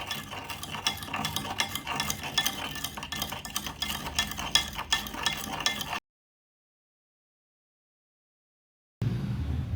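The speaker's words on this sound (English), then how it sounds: "I am stirring the solution again for few minutes." Soil and water being stirred in a container, rapid repeated scraping and clinking strokes for several seconds, then a stretch of silence before the stirring noise resumes.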